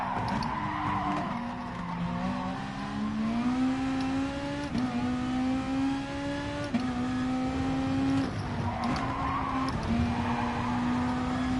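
Race cars in the Gran Turismo Sport video game roar continuously with rising and shifting engine pitch through gear changes, tires skidding and squealing in places, loud and steady throughout with no talking.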